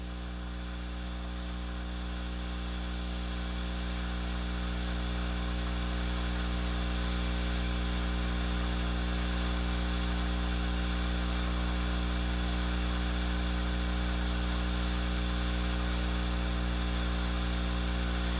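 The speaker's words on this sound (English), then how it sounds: "Keep the burr on a straight path so that the slice appears straight when viewed from the occlusal" Dental burr on a high-speed handpiece cutting a tooth during preparation for a stainless steel crown, giving a steady, loud, high-pitched whine with a constant low hum underneath, unbroken and with no speech.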